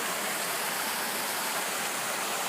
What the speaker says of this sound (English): Yet another cascade.